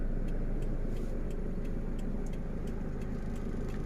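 A pickup truck rolls slowly with the clutch and brake released during a reverse-parking lesson, its engine giving a steady low idling rumble from inside the cab, with faint regular ticks above it.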